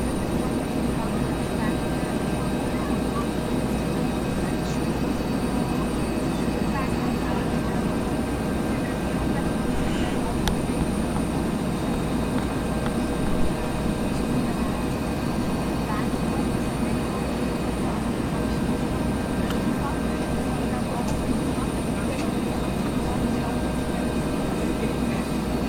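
A Bell 412 helicopter in the X-Plane 11 flight simulator cruising through gusty, foggy weather, its engine and rotor making a steady, unbroken drone throughout.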